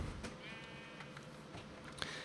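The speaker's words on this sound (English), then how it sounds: "We can shear these sheep here" Minecraft sheep give a soft, faint bleat beneath a quiet game background, one short wavering call heard before they are sheared.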